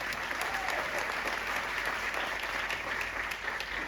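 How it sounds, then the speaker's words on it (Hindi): An audience at a youth empowerment seminar claps in a steady, dense burst of applause that fills the whole stretch evenly, heard alone without voices. "तो एक बार जोरदार तालियां हो जाएंगे लिए।"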